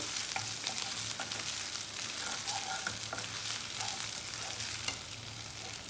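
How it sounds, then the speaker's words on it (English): Ginger and green chillies fry in hot oil for a masoor dal tadka, giving a continuous close sizzle with light stirring scrapes and small pops throughout. "Now, this will cook literally in a matter of seconds, the ginger and the green chilies."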